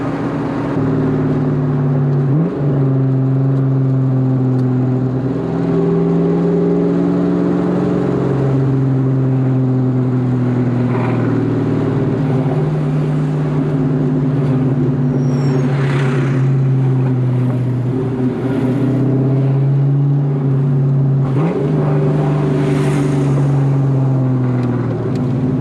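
A 1997 Ford Mustang SVT Cobra V8 engine heard from close by, repeatedly revving up and settling back to a rumbling idle, with the pitch rising and falling across several throttle blips.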